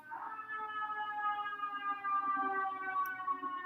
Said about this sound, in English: an ambulance going by.